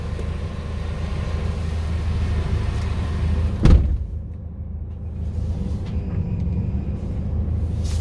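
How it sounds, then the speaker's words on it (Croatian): A truck engine idles after starting on a cold morning, a steady low rumble with a sharp thump partway through, then the motor keeps running evenly. "Kamion je upalio, to je dobro."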